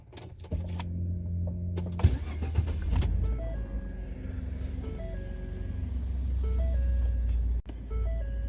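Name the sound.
pickup truck engine starting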